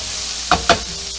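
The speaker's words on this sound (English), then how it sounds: "Gave me a chance to get my wooden spoon. So we can sweat the onions" Onions sweat in a hot pan under a constant soft sizzle, broken by two quick scraping stirs of a wooden spoon, close and clear.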